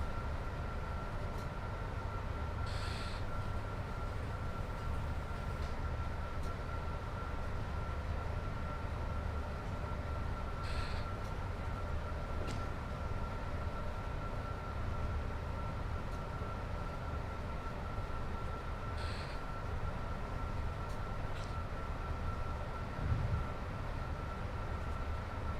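A British Rail Class 86 electric locomotive is driven in Train Sim World 6, giving a steady low rumble of running gear and motors. A faint sustained tone sits above it, and a few brief clicks or hisses recur throughout.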